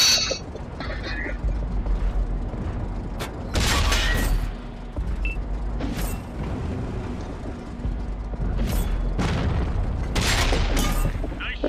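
Tank cannon shots in a tank battle video game, several loud booming blasts spaced irregularly over a rumbling engine and mechanical background, close and heavy.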